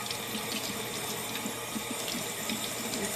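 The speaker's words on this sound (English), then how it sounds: "you just want to run the cold water" Cold water runs steadily from a kitchen tap over eggs, a constant close splashing rush with no break, loud and alone.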